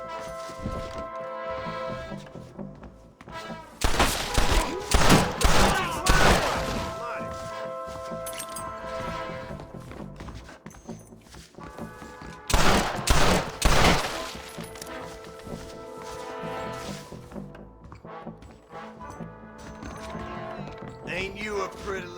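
Bursts of gunfire from the Red Dead Redemption video game, loud volleys in two clusters over a steady background with a voice talking.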